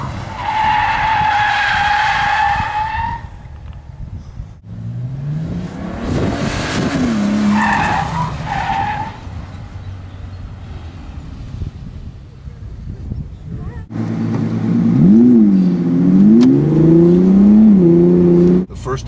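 Bentley skidding on a track during an electronic stability control demonstration: loud tire squeals and screeches in several bursts, with engine revs climbing and falling, then a final long squeal under accelerating engine.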